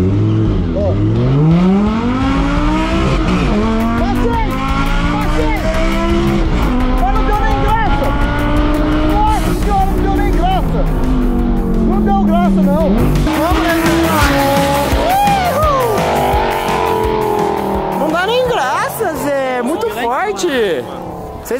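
Lamborghini and Tesla Model X accelerating side by side in a drag race, traction control switched off: a loud, sustained rising engine and motor roar with tire squeal, close up, under steady talk throughout.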